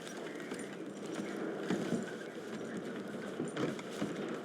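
Horse hooves clop in the Red Dead Redemption 2 game world, loose and irregular under a dense, noisy ambient bed, with no one speaking.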